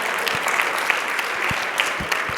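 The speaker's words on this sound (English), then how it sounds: "Round of applause for that" Audience applause at a talk on workplace collaboration, steady dense clapping from a crowd held at an even level with a few louder claps standing out.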